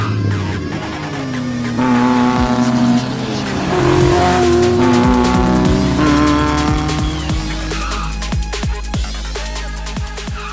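Exclusive, ultra-rare sports car driven in Roblox, with a steady engine drone rising and falling through gear changes, brief tire squeals and skids, and sharp clicks scattered over it, loud and continuous for the whole stretch.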